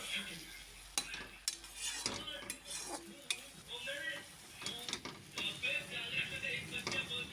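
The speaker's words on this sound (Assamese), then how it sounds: "দেখিছে মই কেনেকুৱাকৈ ভাজি লৈছোঁ।" Chutney ingredients dry roasting in a pan, with a spoon scraping and stirring in irregular knocks and clinks against the metal over a faint low hiss, close and fairly quiet with no talking.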